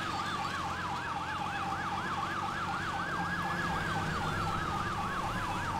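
Police escort sirens in the GTA 5 video game wail continuously in a fast, regular up-and-down yelp, loud and close over a low engine rumble, with no talk.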